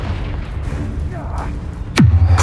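A Confringo blasting curse bursts in Hogwarts Legacy: one sharp, loud crack with a deep booming tail near the end, after a stretch of low rumbling game ambience.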